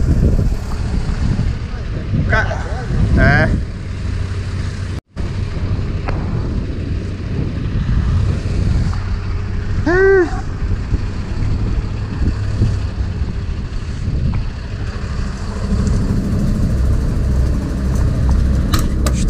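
Tractor engine rumbling steadily while pulling a heavily loaded dump trailer near a ferry raft, a low continuous drone with wind buffeting the microphone, a brief dropout midway, and people talking over it.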